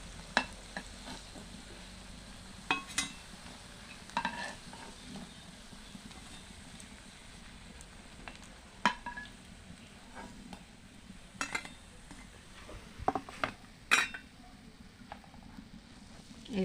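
Banana flower chops frying in a pan of oil, a low, steady sizzle beneath scattered clinks and scrapes of a utensil moving the pieces around, fairly quiet and close.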